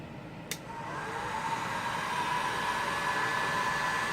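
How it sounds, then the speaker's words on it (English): A heat gun blows hot air during an iPhone 4 screen replacement: a click at the start, then a steady, fairly quiet rushing hiss with a faint whine that holds evenly to the end. "Well, I guess we'll have to use the heat gun here."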